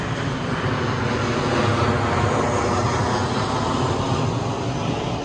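Commercial airplane passing overhead on an approach path near an airport: a steady, broad engine roar and rumble that holds at an even level throughout, with no talking.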